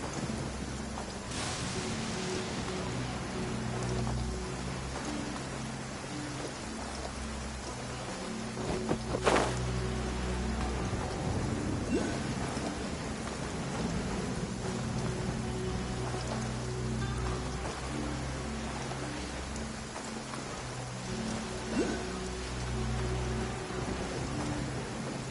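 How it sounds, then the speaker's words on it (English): Heavy rain pours steadily in a downpour in Genshin Impact, with rolling thunder and a sharp crack near the middle, a dense continuous wash of sound with no talking. "Taking a stroll in the middle of a downpour certainly rouses the spirit."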